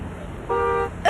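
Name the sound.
car horn honking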